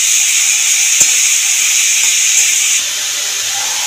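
Banana stem and papaya frying in a pan with lentil dumplings and a pinch of turmeric, giving a loud, steady sizzle and hiss with a soft knock near the start.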